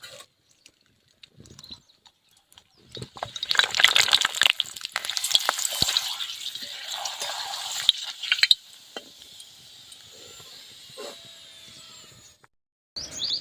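Sabudana and potato papad frying in hot oil, starting quiet with a few ticks, then swelling into a loud crackling, bubbling sizzle for several seconds before dropping back to a softer hiss and a final clatter.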